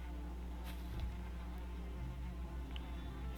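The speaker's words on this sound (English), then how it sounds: "I got some bees. Well, a bee's nest anyway." Bees buzzing around a bee's nest in the video game Valheim, a steady insect drone that runs continuously at moderate level without any talk.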